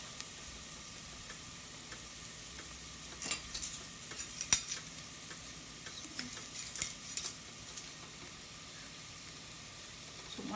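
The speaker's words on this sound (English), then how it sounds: "we're going to add the tomato paste" A spoon stirs tomato paste into softened garlic in a pan during a spaghetti and turkey meatball recipe, giving soft scraping and clinking strokes with a light sizzle, busiest in the middle of the stretch and quiet at the ends.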